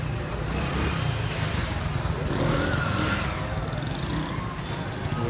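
Motorcycles and other vehicles crowd a rush-hour petrol pump, making a constant dense roar of idling and revving engines with no break.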